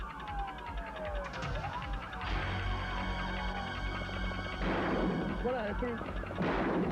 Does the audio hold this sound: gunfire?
yes